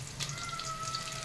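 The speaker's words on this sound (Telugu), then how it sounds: "ఆయిల్ వేడైందండి. మనం ఉల్లిపాయ వేసుకుందాం." Onions sizzle in hot oil with a steady, close hiss and fine crackle throughout. The sound is moderately loud and continuous, with no talking.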